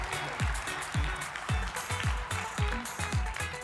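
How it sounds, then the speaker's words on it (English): An audience at a data-enterprise conference in Korea claps for two speakers, a dense steady wash of applause close by with occasional louder individual claps throughout. "a big round of applause for Sam and Jaime"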